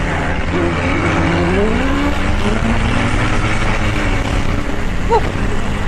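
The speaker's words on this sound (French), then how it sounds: "j'entends beaucoup de moteurs derrière moi" Motocross bikes in the Super Finale at the Antoing Cross Festival roar continuously from close by, with several engines overlapping and pitch sweeping up and down as the riders race, loud and unbroken throughout.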